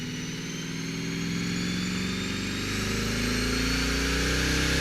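A Nissan Titan VK56 V8 truck engine runs on a dyno, a steady loud droning rumble whose pitch climbs slowly and evenly as it holds a sustained pull, with no talking.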